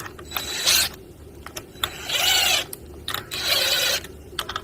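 Bolts being tightened on the primary gear reduction plate of a Honda Rancher/Foreman/Rubicon ATV, heard as several close bursts of ratchet clicking separated by short pauses, with no talk.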